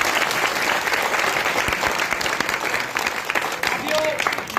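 A gathering applauds to welcome Pratap Singh Khachariyawas, a state minister and local legislator, with a dense, steady burst of clapping at moderate volume from a nearby crowd.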